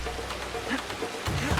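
Steady rain falling in the video game Assassin's Creed Shadows, a continuous hiss of drops with a brief low rumble near the end.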